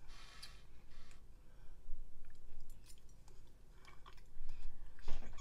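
Close mouth sounds of someone chewing mac and cheese, soft wet smacking and mastication in irregular bursts with no talking.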